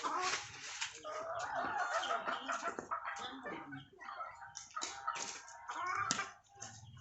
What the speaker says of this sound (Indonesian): Kamu balikkan lo ayam ke sana.